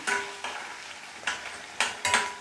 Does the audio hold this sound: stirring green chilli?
yes